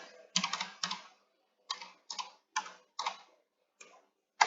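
A computer keyboard is typed on in short, separated bursts of clacking keystrokes, including presses of the arrow keys, close and clear against silence, with no voices.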